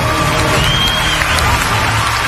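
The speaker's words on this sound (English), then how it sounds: "Denver's sister squad, including Sister Mackenzie, is cheering her on from the sidelines." Supporters cheer and applaud from the sidelines at a televised singing competition, a steady dense wash of crowd noise filling the whole moment with some voices mixed in.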